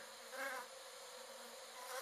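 Steady, faint insect buzzing, like bees droning nearby, with a slight swell in the middle and no voices.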